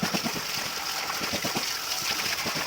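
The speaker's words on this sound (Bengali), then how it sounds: "এখন এগুলোকে জল দিয়ে ভালো করে ধুয়ে নিচ্ছে মা" Freshly cut wild taro leaves are washed by hand in water, producing soft, close sloshing and splashing in an uneven rhythm against a steady background hiss.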